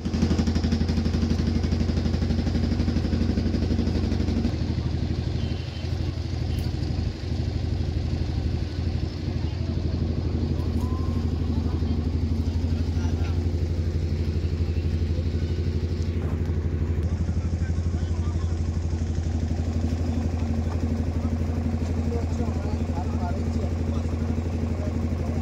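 A motor launch ferry engine drones at a river ghat with a loud, steady low rumble that runs the whole time, while faint voices and clatter sit beneath it.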